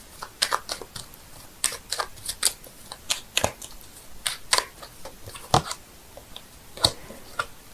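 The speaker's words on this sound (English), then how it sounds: "I'm shuffling the cards here, seeing if I can get a clarifying card for the 4 of Swords" Tarot cards being shuffled by hand, a series of sharp, close riffling snaps and soft slides in irregular bursts, heard alone in a quiet room.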